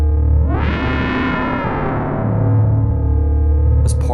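Moog Matriarch synthesizer producing a loud sustained howling tone, heavily distorted and rich with harmonics, sliding and wavering before a few brief glitchy ticks near the end.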